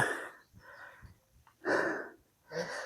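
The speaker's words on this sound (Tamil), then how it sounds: "ரொம்ப மூச்சு வாங்குது" Heavy, labored breathing from a person trekking uphill toward a hilltop temple near Dindigul, several loud puffing breaths in uneven bursts, close to the microphone.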